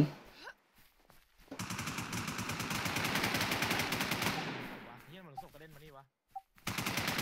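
Sustained automatic gunfire in the shooter game Infestation, a long loud rattling burst of a few seconds after a couple of isolated shots, then tapering off with a few scattered shots.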